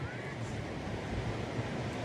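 Ocean waves wash onto a beach along the Great Ocean Road, a soft, steady surf hiss blended with wind buffeting the microphone, faint and continuous throughout.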